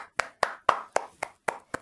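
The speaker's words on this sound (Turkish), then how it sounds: "Alkışlıyoruz" Seven sharp, evenly spaced hand claps ring out one after another at a steady rhythm, close and fairly loud, with no talk over them, in a spirited salute after two remote-control cars broke down.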